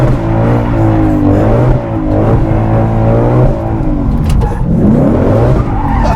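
A Shelby GT500 accelerates flat out at a motoring festival. Its tires squeal and skid in loud, wavering screeches over a roaring, revving V8 that stays close and intense throughout.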